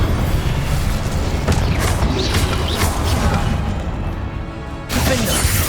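Repeated fire spells burst with heavy booms and crashing impacts during magic combat in a Hogwarts video game. The blasts come in quick succession, loud and close, with a brief lull before another burst near the end.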